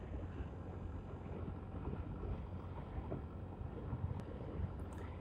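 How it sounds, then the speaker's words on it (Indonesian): Strong wind buffets the microphone during a Sunday motorbike ride through rural Brebes, Central Java, toward Waduk Malahayu reservoir, a steady, loud, low roaring rumble with gusty swells and no talk. "Dan anginnya gede."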